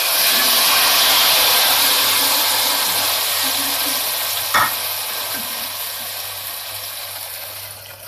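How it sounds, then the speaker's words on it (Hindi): Cumin and spices crackle and sizzle steadily in hot oil for tempering besan kadhi, a loud continuous frying hiss close by with a brief clunk partway through. "हम तड़का लगाते हैं।"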